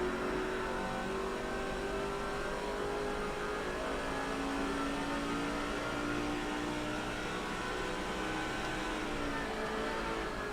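Race cars in the NASCAR 05 video game, Busch Series at New Hampshire, hold a steady, loud engine drone with shifting revving tones as cars run and pit, with no talk.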